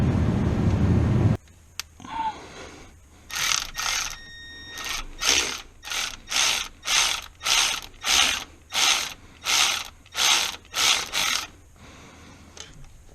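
A socket ratchet works a 10 mm bolt on a Ford 6.0 Powerstroke diesel's valve cover area, a long run of about a dozen even, close, loud clicking bursts in steady rhythm after a brief noisy start.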